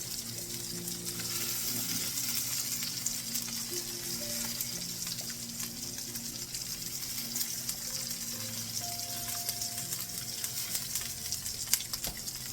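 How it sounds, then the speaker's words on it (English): Raw meatballs simmer in spaghetti sauce with a soft, steady sizzle and bubbling, interrupted now and then by faint stirring clinks; the sound stays quiet and close with no talking. "we get those cooking in the sauce. We're going to stir it around just a second."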